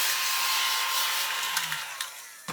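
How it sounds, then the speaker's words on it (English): A small handheld vacuum runs steadily over a 1/12 scale Italeri Lancia Stratos model car body, a constant whine with light scraping and rubbing, and a click as it cuts off at the end. "now we can come along with our little vacuum again and clean up"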